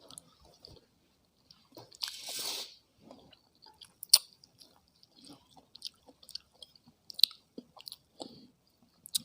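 Java plums are chewed close to the mic in an ASMR setting. Soft, wet bites and squishy mastication come with occasional sharp crunchy clicks, intermittent and intimate, with a brief rustle early on.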